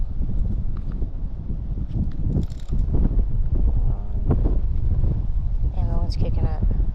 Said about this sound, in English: Damn, the wind's kicking up.